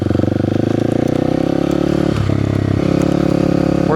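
Kawasaki KLX300 dirt bike riding a rough rocky road, its engine a loud steady close drone with rattling and crackling of thrown rocks, and a brief dip in pitch partway through.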